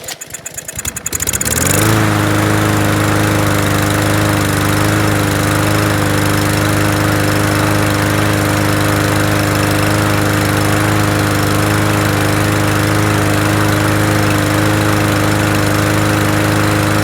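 A free lawn mower's small engine sputters briefly, then catches and runs loud and steady at a constant idle-like pitch for the rest of the time, close by.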